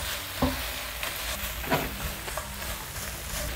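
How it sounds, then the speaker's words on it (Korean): Stir-fried anchovies in a gochujang chili sauce are tossed together with two spatulas in a pan over very low heat, giving a steady close sizzle broken by a few scraping knocks. "그러면 이때 저희가 아까 볶아 놓은 멸치를 넣어주세요. 그리고 주걱 2개를 갖고 요거를 잘 섞어주세요."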